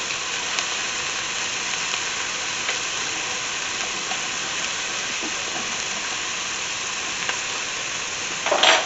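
Minced garlic sizzles steadily in a hot pan for a veggie beef soup, a loud, continuous frying hiss with a slight rustle near the end.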